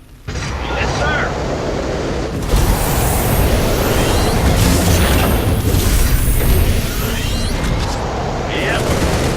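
A nuclear missile detonates in the StarCraft 2 campaign, a dense, continuous roaring rumble that swells after a couple of seconds and holds loud and sustained to the end, with game voices faintly mixed in.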